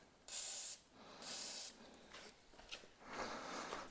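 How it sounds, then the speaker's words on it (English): WD-40 sprayed onto the rusty rear subframe of a Jaguar XKR, with two strong hissing squirts and then a few shorter, fainter bursts, close by and with no talk. "we'll just give it a quick squirt of the old WD again"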